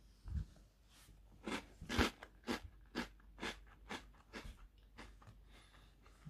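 Close, repeated crunching as EDEKA peanut butter crunchies, peanut flips eaten in milk, are chewed, a rapid series of sharp crisp bites over about six seconds with no talking.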